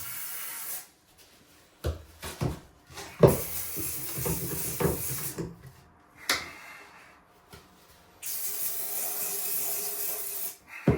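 Hissing bursts of spray, several short blasts and a longer sustained hiss near the end, mixed with light handling clatter.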